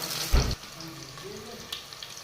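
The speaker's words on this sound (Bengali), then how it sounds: "তেলের মধ্যে দিয়ে পেঁয়াজটা খুব সুন্দর করে ভেজে নেবে" Onions fry in hot oil for a country chicken curry, making a soft, steady sizzle with a short louder burst near the start. No one speaks.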